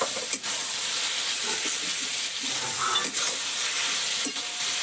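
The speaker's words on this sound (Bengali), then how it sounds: "এবার আমি দিয়ে দেবো এই যে ভেজে রাখা চিংড়ি মাছ" Fried prawns stirred into kochur loti (taro stolons) in a pan, giving a loud, steady sizzling hiss with occasional soft clinks and scrapes of the spoon.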